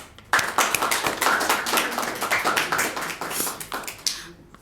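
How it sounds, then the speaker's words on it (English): An open mic poetry audience claps, a burst of close, crisp hand claps starting abruptly and continuing steadily before stopping near the end. "Claps."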